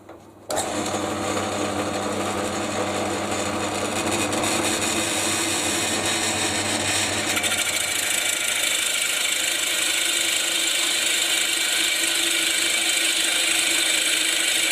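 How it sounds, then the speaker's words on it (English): Power drill spinning a 38mm bit to bore out the underside of a chrome crank-top mill blank, a steady loud motor whine holding for the full stretch after a brief quiet start. "I'm going to start with a 38mm drill bit and take the bottom of the blank out"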